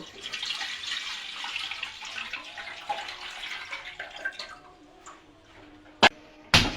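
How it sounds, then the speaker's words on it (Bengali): Water pours steadily into a cooking pot for rice-flour cake preparation, a splashy gurgling stream for about four seconds that fades out, then two sharp knocks of the pot. "আমি হাঁড়িতে জল দিয়ে দেব"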